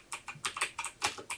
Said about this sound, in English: I could go to my terminal and type .net